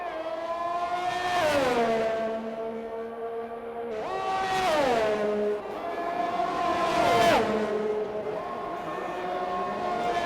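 Racing game cars lapping Baku in qualifying, engines whining and shifting up through the gears in three loud sweeping runs as cars pass close, each pitch rising then dropping.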